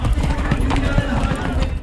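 Rahvan pacing horses at a horse race organized by the Yakutiye municipality drum out loud, close hoofbeats in a dense, continuous clatter, with a voice over the top.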